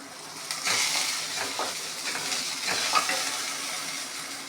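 Onion and ginger garlic paste fry in a pan for a cauliflower curry, a steady sizzle broken by scraping stirs of a spoon, close and fairly loud with no talking.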